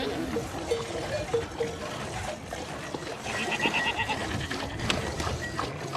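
Goats herded by Qashqai nomads in Iran bleat during evening milking, giving several short bleats, some nearer and some farther, over rustling and a busy outdoor background.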